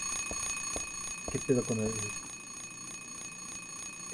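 An alarm rings steadily in the video game Silent Hill 3 as a continuous electronic tone with a repeating pulse. Someone speaks briefly over it partway through.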